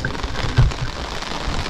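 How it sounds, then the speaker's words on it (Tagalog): Rain falls steadily on a hiking trail along the Seoul City Wall near Changuimun Gate. It makes a continuous close hiss of drops, with one soft thump partway through. "My god, umuulan, friend."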